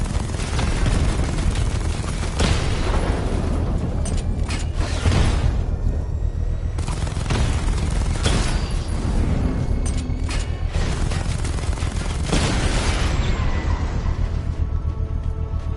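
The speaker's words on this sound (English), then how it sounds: "Batman's taking out a drone." Booming blasts and mechanical gunfire in the video game Batman: Arkham Knight as Batman takes out a drone, a loud sequence of repeated impacts and bursts with brief lulls between them.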